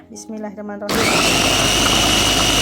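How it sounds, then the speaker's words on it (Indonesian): After a brief spoken phrase, an electric blender grinding spices roars on abruptly and keeps running at a loud, steady, high-pitched whir to the end. "Kemudian saatnya kita blender."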